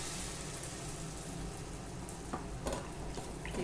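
Small balls of nut suiyam deep-fry in hot oil, with a steady, close crackling sizzle throughout and a few brighter spits and pops toward the end.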